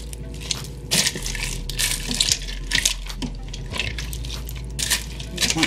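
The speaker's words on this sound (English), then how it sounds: "Give it a quick stir." Chicken and noodles are stirred inside an Instant Pot, giving a close, wet squelching and scraping with soft liquid sloshing and intermittent knocks against the metal pot.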